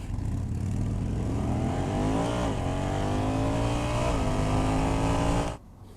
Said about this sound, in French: je vais vous faire un départ 0-100 km/h le plus vite possible en drive avec la puissance minimale